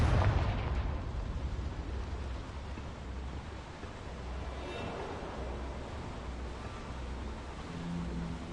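The Confringo spell in the video game Hogwarts Legacy detonates in a loud burst at the start, followed by a sustained rumbling, crackling blast wash that slowly fades.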